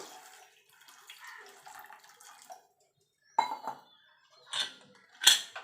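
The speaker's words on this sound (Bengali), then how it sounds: "এবার জল দিয়ে দেবো" Water poured into a metal pressure cooker for boiling jackfruit seeds gives short splashing pours and pan clinks in a quiet kitchen, with brief clanks near the end.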